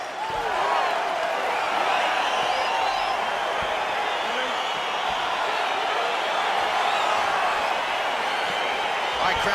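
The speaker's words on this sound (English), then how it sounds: "crowd getting excited as this fight gets underway" Steady, dense crowd roar and cheering filling an arena as a Jon Jones vs Alex Pereira fight begins in the UFC 4 video game, continuous and loud throughout with a few whoops rising above it.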